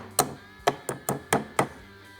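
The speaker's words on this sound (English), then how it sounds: "Let's take our little hammer and tap them in." Six crisp metallic taps from a small hammer driving pins into a Remington 870 12 gauge shotgun trigger assembly, spaced unevenly a fraction of a second apart, close up with no talking.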